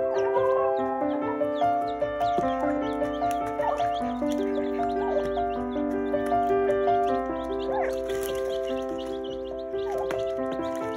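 A rooster clucks and calls repeatedly in a barnyard over an extended stretch, with sheep bleating alongside, the calls loud, close and overlapping in a steady, busy chorus.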